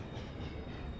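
A train braking into a station in a Roblox train simulator game, a continuous dense rumbling roar of wheels and carriages, steady and fairly loud with no talk.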